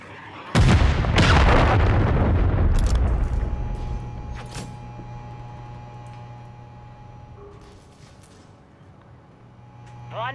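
A cruise missile strike in Call of Duty delivers two heavy, close booms in quick succession, followed by a long, fading rumble and scattered debris ticks.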